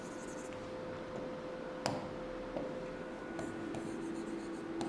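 Pen or marker writing on a board during a maths lesson on data handling, a faint continuous scratching with a few small taps, close but quiet under steady background hum.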